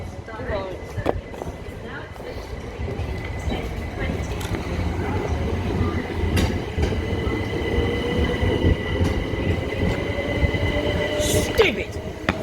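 A train rolls through a station on the line at Chichester, Barnham and Ford, a steady heavy rumble with wheel noise and a rising whine, ending in a brief squeal, as people talk nearby.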